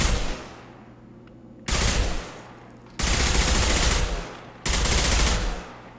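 Loud automatic gunfire from the video game Mass Effect 2 comes in sustained bursts, four dense volleys separated by short pauses with fading echoes between them.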